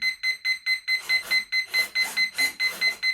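Rapid electronic beeping from a bound radio-control receiver in a model Super Cub airplane repeats steadily, about four beeps a second, with bright, piercing tones and a faint background hiss.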